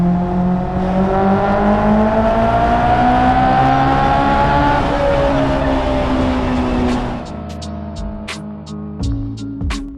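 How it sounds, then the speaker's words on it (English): A Honda S2000 pulls hard in second gear, its engine note climbing steadily and loudly for several seconds before the revs drop off and brief clicks and whines follow. "Second gear pull, Honda S2000 right here."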